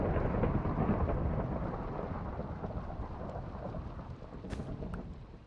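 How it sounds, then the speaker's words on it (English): Thunder in Minecraft rolls in loud and then fades into a long low rumble, with rain pattering steadily beneath it. "Thunder."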